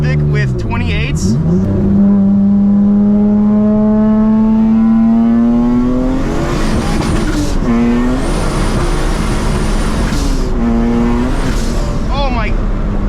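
A turbocharged V6 Honda Civic on 28-inch wheels, tuned to about 600 hp, revs hard as it accelerates, its engine note climbing and shifting loudly up close while the tires struggle for traction; someone talks over the engine.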